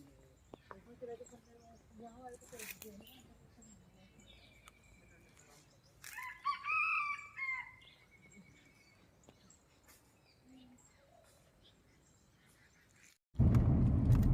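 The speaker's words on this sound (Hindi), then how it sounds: "साथ में आ रही थी बहुत प्यारे प्यारे पक्षियों की आवाज़ें" Forest birds chirp and call near a village road in Himachal, with scattered tweets, one bright warbling call in the middle, and faint insect hum throughout before a loud burst of rumble at the end.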